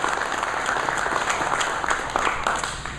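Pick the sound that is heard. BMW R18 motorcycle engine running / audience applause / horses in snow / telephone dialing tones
audience applause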